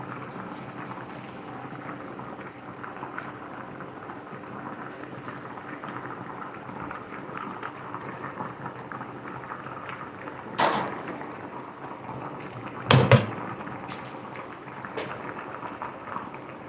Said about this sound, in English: So we're going to boil the salt fish here.